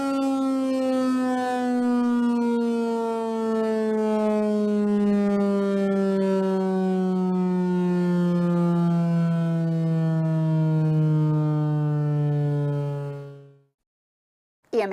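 Madison County EMA's new emergency alarm siren sounds in a test sample as one long, loud, steady wail that slowly slides downward in pitch, then cuts off into silence.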